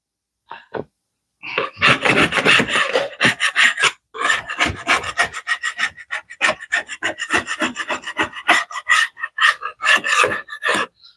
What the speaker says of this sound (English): do this with a dull, either putty knife, chisel, or something like that